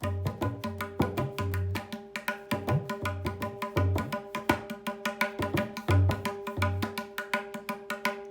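A tabla plays a lively, steady repeating kaherva rhythm of resonant bass strokes and crisp higher slaps, close and continuous with no voices.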